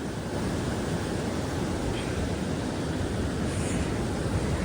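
Ocean waves wash steadily onto a beach, a dense continuous roar of surf mixed with wind buffeting the microphone, loud and close with no talking.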